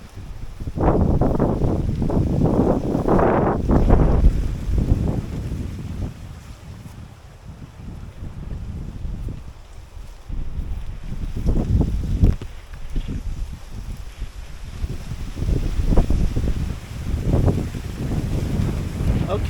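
Strong gusty wind roars against the microphone among banana plants tied up with PVC and rope racks, loud buffeting surges rising and falling over the whole stretch, with no voice heard.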